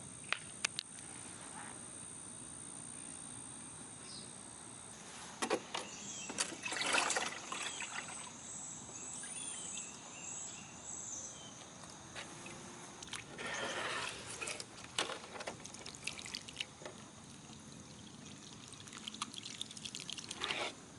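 Hydrangea cuttings being watered with homemade organic liquid fertilizer, soft trickling and dripping of liquid onto soil in short bursts with quiet gaps, fairly faint and close.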